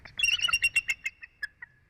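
An eagle giving a chittering call, a rapid run of high, thin notes that slows and fades into spaced chirps, close and alone.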